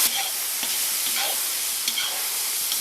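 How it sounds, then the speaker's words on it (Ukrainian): Tomatoes are stirred into a vegetable sauté frying in a cauldron for Czechoslovak minced-meat soup, giving a steady close sizzle with faint scraping stir sounds on top. "Гарно перемішуємо."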